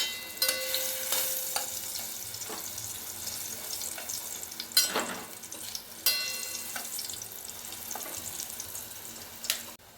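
Sweet potato slices frying gently in ghee over low heat, a soft steady sizzle broken by a few clinks and scrapes as pieces are turned, with faint water-like splashes in the background.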